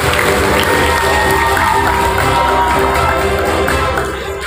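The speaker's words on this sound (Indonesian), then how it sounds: "mohon beri tepuk tangan yang meriah di awal kita buatkan" An audience at an Islamic religious lecture in Medan applauds and cheers for the preacher, a dense, loud, continuous wash of clapping and crowd noise that fades slightly at the end.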